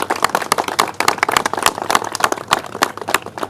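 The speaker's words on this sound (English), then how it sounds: "Let's give them a round of applause." Crowd applause for state officials at a gubernatorial visit on Staten Island, with dense, uneven claps and sharp individual hand slaps cutting through, loud and close, steady for the whole stretch.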